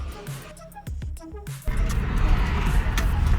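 A 2007 Jeep Liberty Sport's engine runs steadily at close range after a repaired clutch master and slave cylinder, preceded by some brief clanks and mechanical noises.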